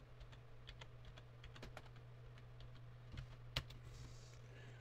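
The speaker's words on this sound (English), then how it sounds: "And let's type in grab." Quiet keystrokes on a computer keyboard while a search term is entered on a retailer's website, a short run of light, irregular clicks with one sharper tap near the end over a low steady hum.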